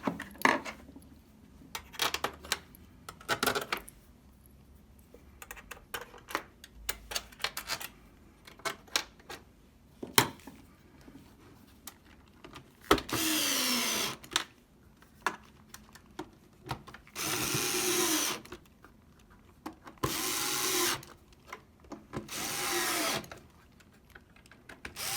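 Long screws go back into an Xbox One S case with a power tool, giving several distinct whirring bursts of a few seconds each between softer handling clicks and rattles, close up and without speech.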